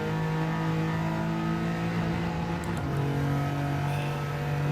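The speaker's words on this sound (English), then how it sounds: "Why do I actually enjoy the sound of this 3-cylinder?" Peugeot 2008 three-cylinder engine in Gran Turismo 7, a steady loud buzzing drone holding near-constant revs with a slight dip and recovery midway, no talk over it.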